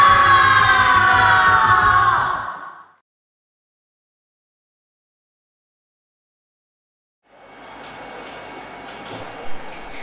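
A group of people in Indonesia shouting together on cue, a loud massed yell for about three seconds that cuts off into silence, followed later by a quieter rumbling crowd-like wash.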